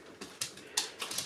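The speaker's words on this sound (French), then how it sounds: "les griffes que vous entendez, c'est le chien là, qui vient me voir." A dog's claws click on a hard floor as it approaches, a few light taps spaced unevenly, faint and close in a quiet room.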